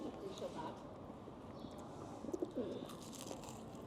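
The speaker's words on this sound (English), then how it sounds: "these the pigeons are closing in on us" Pigeons coo and flutter close by outside a long-established fish and chip shop in Ireland, soft calls blending into a busy, talky street-side background with a few brief clattering knocks.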